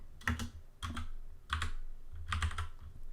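Bursts of computer keyboard typing while text is entered for a digital art print, four clustered flurries of clicking keys, close and moderately loud, with no talking.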